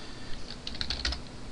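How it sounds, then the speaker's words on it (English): A computer keyboard is struck in a quick burst of several clattering keypresses, close and fairly sharp over a low room hum. The burst is brief and there is no talking. "I just hit the keyboard"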